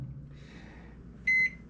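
A microwave oven heats a cup of coffee with a steady low hum, then gives one bright electronic beep near the end.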